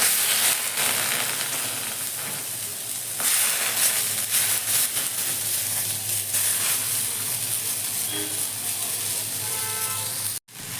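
Tomatoes fry in oil in a pan over medium heat for a spicy village-style green chilli thecha, giving a steady close sizzle and hiss that runs throughout and cuts off sharply right at the end.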